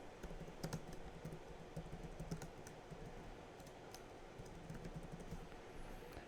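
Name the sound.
typing an address on a computer keyboard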